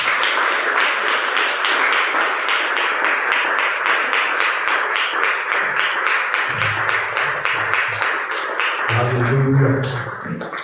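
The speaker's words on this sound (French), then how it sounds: "Acclame Jésus." A church congregation applauds and claps together in a dense, continuous burst that swells and then thins, with voices calling out and rising over the clapping toward the end.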